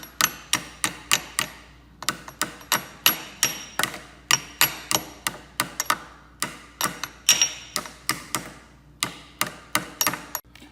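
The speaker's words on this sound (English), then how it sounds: "We're just tapping the seal in." Sharp, close taps drive a seal into place on a Corvair engine during a refresh, a long, fairly even series of hard hammer knocks with brief pauses between groups.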